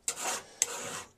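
Two short rasping strokes of a smooth file drawn across the edge of a steel cabinet scraper, each stroke starting with a sharp bite and trailing off, close and fairly quiet with nothing else heard.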